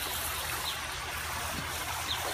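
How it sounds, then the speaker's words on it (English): Water from a garden hose fitted with a calcium filter runs steadily onto the soil around a newly planted tropical fruit tree, a continuous near hiss and trickle. "I'm going to start watering this guy."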